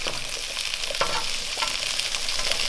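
Onions and sausages fry in a pan with a loud, steady sizzle. A couple of brief stirring or turning clicks sound close up, and no one speaks.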